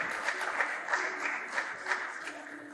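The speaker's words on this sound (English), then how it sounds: "I request our audience to please give them a round of applause" An audience applauds after a panel session on oral care, a moderate crowd clapping at a steady, even pace, fairly distant and softening toward the end.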